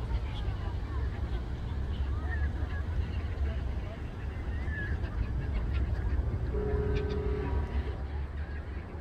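Ducks and gulls squabble over bread in Voznesenivskyi Park in Zaporizhzhia, with scattered honks, quacks and squawks. The calls come over a steady wash of outdoor background noise and people's voices.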